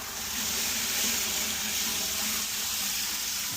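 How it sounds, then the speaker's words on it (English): Tap water runs steadily into water jugs, a close, continuous rushing and hissing stream that stays even and unbroken, with no voices. "just gonna fill them up with water"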